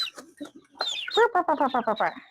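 Chickens cluck close by in a rapid run of short, bright calls that builds toward the end, with a voice speaking at the start.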